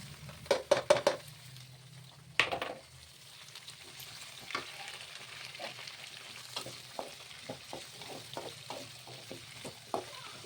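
Cooked ingredients for fried rice tipped together into a hot pan, opening with a few loud clanks and scrapes, then a lingering sizzle under repeated light stirring taps and scrapes, no talking.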